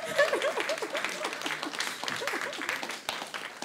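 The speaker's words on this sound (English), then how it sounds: "Y'all ain't got to clap" Scattered audience clapping at a comedy show, a modest round of applause with light chuckles and murmurs mixed in, fading slightly toward the end.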